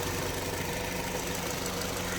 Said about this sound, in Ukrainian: Мотор працює рівно стабільно справно